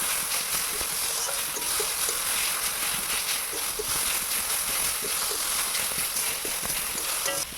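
Steady hiss of spices and oil frying in a pan for Bengali jute-leaf curry, seasoned with salt and turmeric, broad and continuous with faint scattered clicks of stirring throughout.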